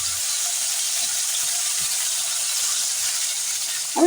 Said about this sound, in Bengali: এবার আমি কড়াইতে আরেকটু তেল দিয়ে একটু হলুদ দিয়ে আমি আলুটা ছেড়ে দিলাম